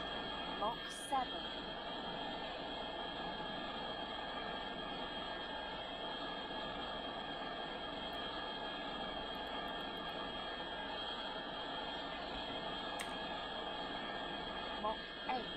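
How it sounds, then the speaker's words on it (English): Scramjet engines from Orbiter 2016 push a craft at hypersonic speed through the upper atmosphere, giving a steady, even jet roar that runs the whole stretch with no break, plus a couple of faint high clicks. "getting good use of these scram jets"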